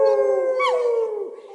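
A pet dog howls along to a children's song, one long wavering tonal howl that bends upward in the middle then trails off, close and clear with no talking over it.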